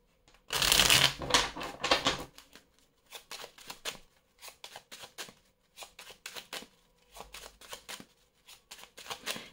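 Béline oracle cards riffle in a loud burst of shuffling, followed by a rapid series of softer card flicks and taps.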